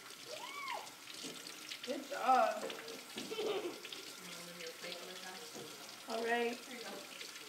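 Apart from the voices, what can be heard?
tap water running while rinsing soapy hands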